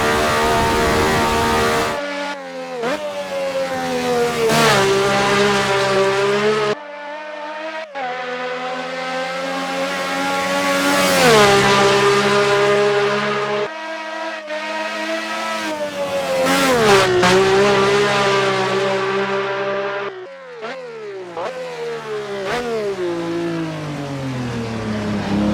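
A 1967 Eagle F1 race car engine on a hot lap at Spa in a racing game, screaming loudly through repeated upshifts and downshifts, revs climbing and dropping with brief lifts between gears, alone with no talk.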